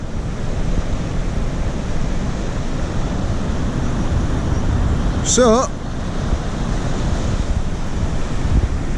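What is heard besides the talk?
sea waves on the beach at Sandsend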